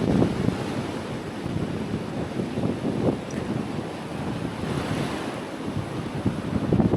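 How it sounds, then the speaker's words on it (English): Ocean waves surge and wash close to a beach house on the Outer Banks, North Carolina, a continuous roar of surf mixed with gusting wind buffeting the microphone. "Look how close the waves are coming."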